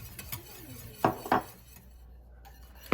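Vanilla whisked into homemade caramel syrup in a pot off the burner: a few quiet metallic clinks and taps of a whisk against the pot, sparse and close, in a low-level room.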